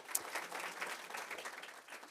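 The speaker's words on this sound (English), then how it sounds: "round of applause for the panel" Audience applause for a panel at a talk on food waste and circular cities: a steady wash of many hands clapping, fairly faint and distant, holding for about two seconds before tapering off.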